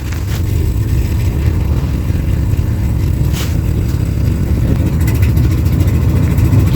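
The diesel engine of a 1995 Georgie Boy Swinger 32-foot motorhome starts and runs with a loud, steady low rumble and idles close by, with a few faint clicks and knocks on top.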